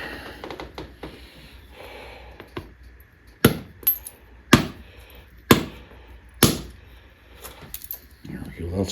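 Mahogany obsidian being knapped to strike off a chunk: about five sharp, ringing stone strikes land a second or so apart after quieter scraping and tapping, close and distinct.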